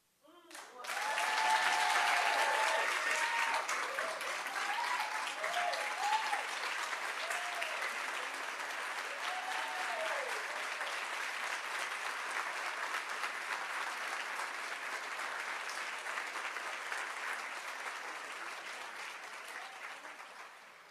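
A breakfast audience at a Women's History event gives a long, sustained round of applause that swells quickly, holds steady for many seconds, and tapers off at the end.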